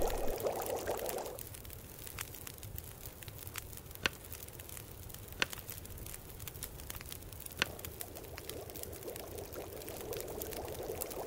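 Water poured steadily in The Long Dark survival game, a continuous soft trickle running through the whole stretch, with a few faint clicks scattered across it and no voices.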